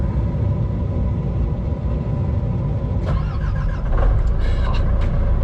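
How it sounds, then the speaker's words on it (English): An old John Deere 120 excavator's diesel engine, loud and close, runs with a steady heavy rumble, then a brief cranking burst gives way to the engine catching and running a touch louder. "Just a couple of cranks of the motor there and it fires off."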